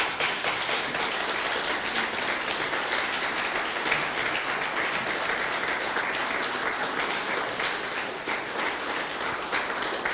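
A church congregation claps together in a dense, steady wash of applause that holds evenly for several seconds.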